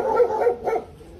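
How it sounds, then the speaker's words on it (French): A dog barks three times in quick succession at close range, the barks loud and fairly evenly spaced, with no talk over them. "Oh, c'est quoi le chien"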